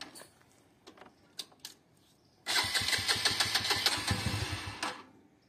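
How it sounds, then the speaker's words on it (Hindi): A 2022 BS6 TVS Radeon motorcycle is self-started: a few faint clicks and short bursts, then a loud, steady electric-starter cranking whir that lasts about two and a half seconds without the engine catching. "अभी हम इसको स्टार्ट करके देखते हैं बाइक स्टार्ट हो रही है नहीं हो रही।"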